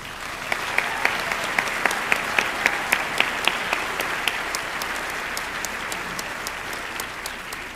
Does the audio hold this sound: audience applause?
yes